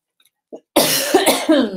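A woman coughs in a short burst of several harsh, loud coughs close to the listener, following a brief quiet lead-in with a faint throat sound.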